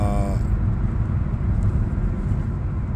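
A car drives down a street at dusk in West Haven, Connecticut, with a steady low road and engine rumble heard from inside the vehicle, and a brief tone at the very start.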